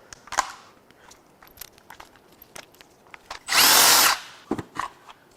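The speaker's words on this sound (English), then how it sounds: "I'm just going to go ahead and pull the bolts" A power tool runs in one loud half-second burst while removing intake bolts on a Jeep 3.0 EcoDiesel engine, surrounded by scattered clicks and clanks of hand work on the engine.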